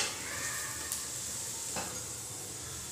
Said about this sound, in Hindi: पलटने के बाद हम दूसरे साइड पर भी थोड़ा सा तेल डालेंगे